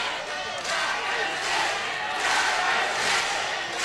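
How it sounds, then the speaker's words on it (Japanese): A large arena crowd roars and cheers loudly and continuously at a WBC world bantamweight title boxing match in Aichi Prefectural Gymnasium, a dense wall of voices with rising swells. "薬師の大歓声が起こっています。"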